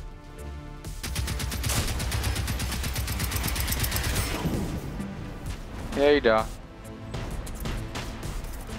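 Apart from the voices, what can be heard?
gunfire in the video game Generation Zero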